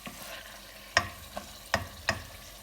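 A few sharp scraping and clinking strokes of a spoon stirring potatoes and meat (aloo gosht) in a pot, with a faint sizzle underneath; no talking.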